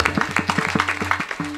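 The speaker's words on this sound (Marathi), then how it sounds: "वा टाळी वाजवा गौरव महाराज" Rhythmic clapping at a kirtan, a fairly quick even beat of claps close by, with harmonium-like sustained tones and a faint voice running underneath.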